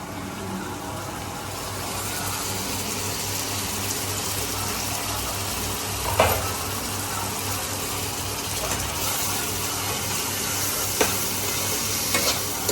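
Eggplant and onion sizzle steadily in a hot pan for sambar, with a few sharp scrapes and clinks of stirring breaking through the constant frying hiss.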